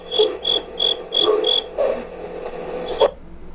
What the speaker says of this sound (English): There's a cricket that's absolutely loud